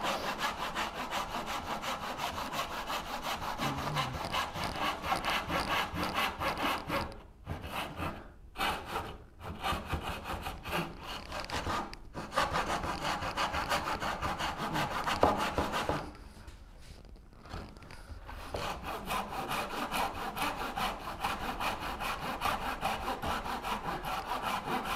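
A hand tenon saw cuts through a large piece of wood for a cabinet base stretcher, steady back-and-forth rasping strokes close up, pausing briefly twice before resuming, with no voices.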